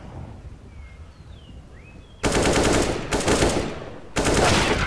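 Bursts of AK rifle fire in Counter-Strike, two rapid automatic volleys with a brief gap between them, loud and close after a quiet lead-in with faint chirping.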